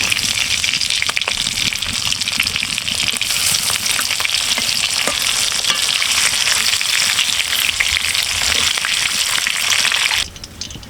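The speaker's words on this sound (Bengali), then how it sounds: "বাকি মাছগুলো ভেজে নেব" Pieces of sea tuna fry in hot oil in a pan, giving a loud, dense, continuous sizzle up close that drops away sharply near the end.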